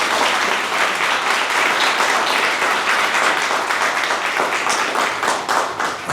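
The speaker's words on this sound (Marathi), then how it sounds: "सो एकदा जोरदार टाळ्या त्यांच्यासाठी आपण" A crowd at a celebration gives loud, dense applause for Malekar sir and madam, with sustained clapping throughout.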